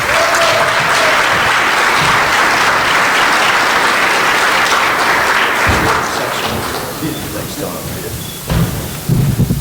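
A large audience applauds a commissioner's welcome, loud, dense clapping that carries on for several seconds and then thins toward the end, with a few closer claps and some voices sounding as it dies down.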